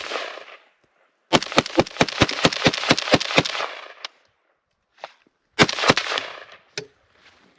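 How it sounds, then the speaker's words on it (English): An AR-15 rifle fired from the hip in snow: a rapid string of about ten sharp, loud cracks, a pause, then a few more scattered shots, each with a short echoing tail outdoors. "I'm gonna go ahead and shoot this from the hip."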